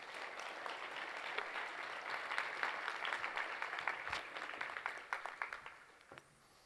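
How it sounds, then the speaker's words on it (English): A leadership retreat audience at a dental business event claps in a quiet, fairly distant round of applause that swells, breaks into scattered individual claps, and then dies away. "Give them a round of applause, guys."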